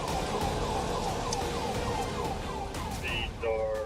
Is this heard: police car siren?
yes